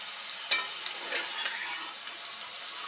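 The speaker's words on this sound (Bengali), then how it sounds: "উচ্ছেগুলো তো ডিপ ফ্রাই করে ভেজে নিলাম" Bitter gourd deep-fries in hot oil, a steady soft crackling sizzle with occasional sharper pops, close and quiet, with no voices.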